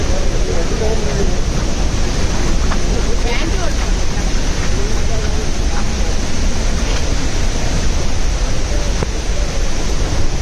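Steady roar of heavy rain and rushing water at Athirappilly Falls, Kerala, fills the whole stretch, dense and unbroken, with no clear voices standing out.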